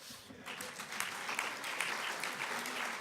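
An audience applauds at a talk on the funding of Islamophobia, a steady wash of many hands clapping that holds at an even level throughout, moderately near and full.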